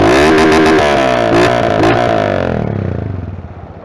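Motorcycle fitted with a sport exhaust pipe revs hard and close, loud, crackly bursts rising and falling, then the engine settles and the sound fades over the last second.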